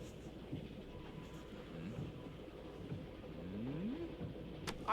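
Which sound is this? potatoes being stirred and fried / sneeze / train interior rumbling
train interior rumbling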